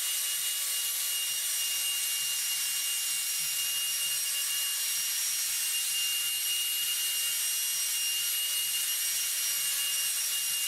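A soft 3000 grit pad works over acrylic plastic, giving a continuous close-up abrasive hiss with a gentle rhythmic throb beneath it, even and unbroken throughout with no voices.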